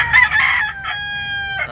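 A rooster crows loudly and close, with a drawn-out call, amid chickens at a crowded live poultry market in Padre Garcia, Batangas, with no voices over it.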